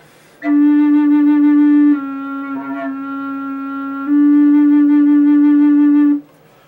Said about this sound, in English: low flute harmony part that you hear